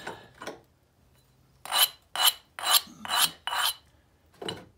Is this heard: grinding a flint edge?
yes